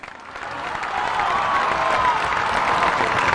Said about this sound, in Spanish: Ese aplauso fuerte para la vicegobernadora